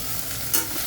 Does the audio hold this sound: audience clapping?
no